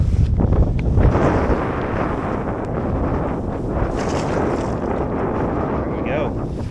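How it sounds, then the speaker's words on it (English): Wind blows hard across a lake bank during autumn fishing on Leesville Lake, Virginia, with a steady, loud rumbling buffet against the microphone throughout. "all this wind's blowing up on this bank"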